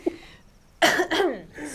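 A single short cough, followed by a throaty voiced sound like throat clearing or a groan, close and fairly loud.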